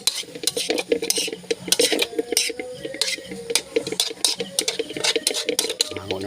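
Food being stirred in a cooking pan, with repeated scraping and clinking of a utensil against the metal over a light sizzle, close and uneven in rhythm.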